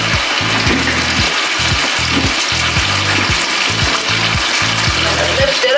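Tomato goes into onions frying in coconut oil for an egg stew, setting off a loud, close sizzle with repeated bubbling pops and crackles throughout.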